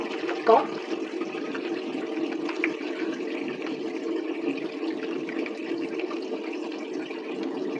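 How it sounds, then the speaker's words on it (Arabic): A face is washed under a running tap at a sink, with a steady splash and flow of water throughout and one brief louder splash near the start. "دابا انا غنغسل وجهي معكم"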